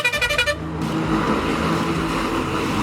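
A bus horn on a road in Nepal sounds loud and sustained, opening with a quick burst of pulsing toots and then holding a steady blare over engine rumble, with no talk.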